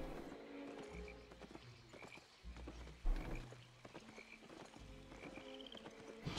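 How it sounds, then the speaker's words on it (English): A giant frog croaks in the Albion Online fantasy game, with repeated low croaks set among game ambience, steady background hum and scattered clicks and knocks. "Giant frog."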